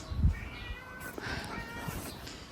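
A house cat meows indoors, a short, faint cry followed by softer, thinner mewing against quiet room noise.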